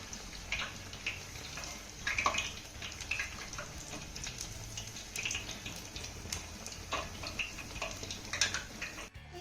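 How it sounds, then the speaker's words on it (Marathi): Chakli made of jowar and wheat flour deep-fries in hot oil with a steady, soft sizzle and scattered small crackles and pops. No one speaks. "चकल्या आपल्याला छान अशा आलटी पलटी करत खमंग खरपूस तळून घ्यायच्या"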